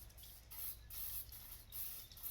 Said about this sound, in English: No, we squirt just in case.